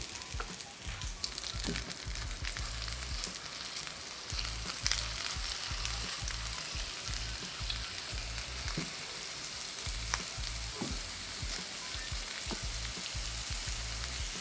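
Meatballs frying in a pan give a continuous close crackling sizzle with scattered pops and light scraping throughout, steady in level and free of talk.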